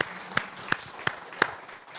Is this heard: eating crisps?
no